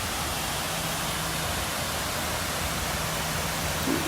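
A waterfall near a cave roars with a steady, dense rush of falling water that stays loud and unbroken throughout, with no voices over it.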